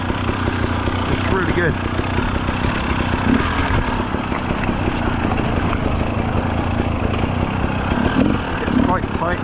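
A rebuilt 2017 KTM 300 dirt bike runs along ridge-top single track, its engine droning and buzzing continuously nearby, with a rider's voice speaking over it.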